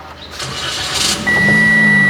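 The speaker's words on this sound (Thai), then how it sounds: "ลูกค้าเราแค่เหยียบเบรกแล้วกดสตาร์ท" A 2020 Toyota Yaris Ativ engine started by push button, a short starter whir that catches at once and settles into a loud, steady close idle.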